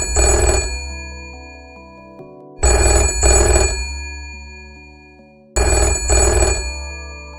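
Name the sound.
telephone ringing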